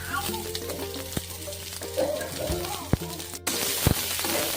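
Chopped onions and green chillies sauté in a pan with a moderate frying crackle, a few clinks and a short burst of louder sizzle near the end, while someone talks over it.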